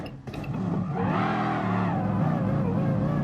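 A race car in a racing video game brakes into a corner at Suzuka Circuit, the engine note dropping and droning loudly with a tyre squeal and no talking.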